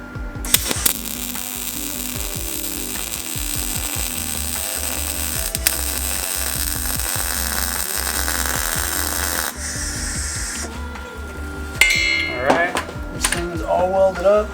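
An electric welder buzzes and crackles steadily on a steel DOM tube bash bar, broken by short stops, then a few louder clanks and handling noises near the end.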